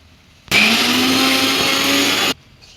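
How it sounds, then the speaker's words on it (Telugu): A kitchen mixer grinder whirs loudly and steadily for about two seconds as it grinds Malabar spinach into chutney, starting and stopping abruptly with no talk. "ఇప్పుడు బచ్చలాగను కూడా వేసి మిక్సీ పట్టుకోవాలి"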